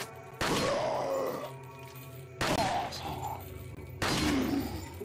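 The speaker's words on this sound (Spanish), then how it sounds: "Cada uno con un disparo." Three heavy, booming gunshots from Resident Evil 4 ring out a couple of seconds apart, each followed by a rumbling tail, with a man's groans mixed in.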